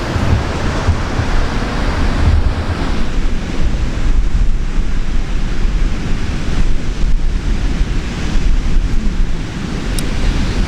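Ocean waves wash continuously onto a beach near Kitty Hawk, a loud, broad roar mixed with gusty wind buffeting close to the ear, no voices present.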